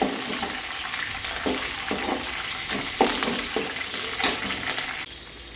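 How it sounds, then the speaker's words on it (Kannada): Onions with green chillies and curry leaves fry in a pan with a steady crackling sizzle, broken by repeated scraping stirs that come about every half second, close and fairly loud. "ಇವಾಗ ಇದಕ್ಕೆ ಈರುಳ್ಳಿನೂ ಹಾಕ್ಕೊಂಡಿದ್ದೀನಿ ಸೊ ಈರುಳ್ಳಿನೂ ಚೆನ್ನಾಗಿ ಫ್ರೈ ಆಗಲಿ"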